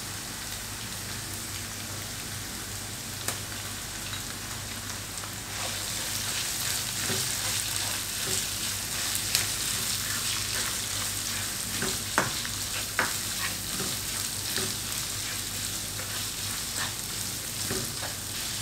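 Meat and shrimp for fresh lumpia filling frying in a pan, a steady broadband sizzle that swells louder partway through, with occasional sharp clicks and scrapes of stirring throughout.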